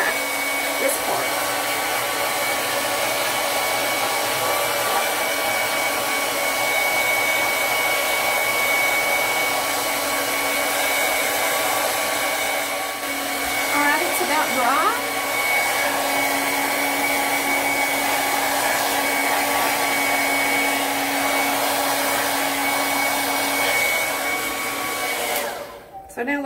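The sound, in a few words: hair dryer blow drying hair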